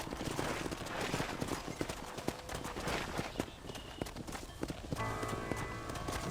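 Horse hooves clip-clopping in the Red Dead Redemption video game, a steady rhythm of close, distinct hoof strikes on the ground with faint background activity and no speech.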